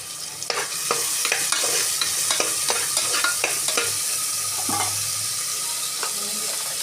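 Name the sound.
small onions sautéing in oil with salt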